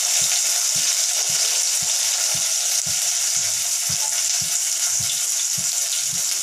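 Onions sizzling and frying in a pan in a home kitchen, a loud continuous crackle with regular stirring scrapes at a steady rhythm, close up and with no talk.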